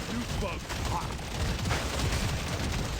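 Shotgun blasts from the mobile game Deep Rock Galactic Mobile, fired at groups of enemies in a cave, a dense run of booming shots over a busy, noisy battle mix with no clear pauses.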